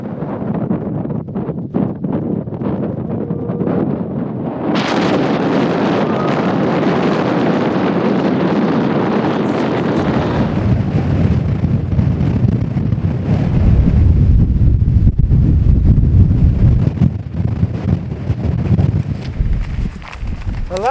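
Strong wind buffeting across an exposed bush hilltop in Australia, loud rushing gusts growing heavier partway through, with rustling and handling noise close by.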